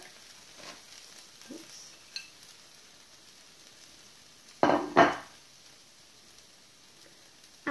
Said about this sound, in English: Those onions are cooking away nicely there. So I add all of my potatoes in there.